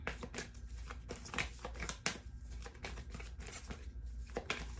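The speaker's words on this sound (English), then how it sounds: "So I'm just gonna take, I'm gonna shuffle again." Oracle cards being shuffled by hand, a steady run of soft papery riffles and slaps repeating close by with no talk over them.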